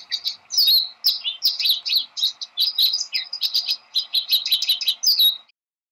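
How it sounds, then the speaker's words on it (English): A small seed-eating finch-like bird of weedy fields and feeders chirps in quick, bright bursts, the high tweets and short trills repeating steadily for several seconds, close and clear over a faint low hum, then stopping abruptly. "tiny little bird that feeds mainly on seeds, and they can be seen in flocks and in weedy fields."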